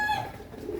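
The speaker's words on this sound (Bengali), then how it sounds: "নটটা হলো ফেটা বেজি, আর মাদিটা হলো বাঘা কবুতর" A breeding pair of pigeons, a Fata Beji male and a Bagha female, cooing once in a soft, low, brief murmur up close.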